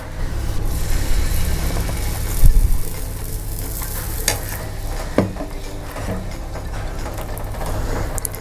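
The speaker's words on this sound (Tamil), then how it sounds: "தோசைக்கல் நல்லா ஹீட் ஆகிடுச்சு. எண்ணெய் நல்லா தடவிக்கோங்க. தடவிட்டு சின்ன சின்ன அடைகளாக இதை ஊற்றலாம்." Vegetable adai batter poured onto a hot, oiled dosa griddle gives a steady close sizzle with a few soft scraping and stirring knocks, one louder thump near the middle, and no talk.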